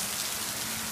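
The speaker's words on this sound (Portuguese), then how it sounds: "Olha isso, queridos. Está chovendo." Steady rain falls close by, a dense, even hiss of drops on surfaces with no voices over it.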